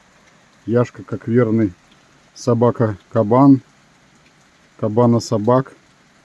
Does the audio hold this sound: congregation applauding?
no